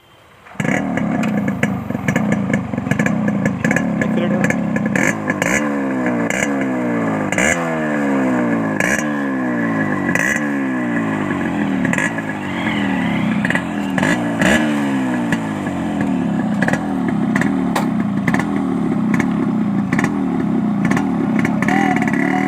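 A restored Yamaha RX 100 two-stroke motorcycle with a new piston, still being run in, kicks into life and runs loud and close, a raspy buzzing engine with repeated revs rising and falling in steady waves.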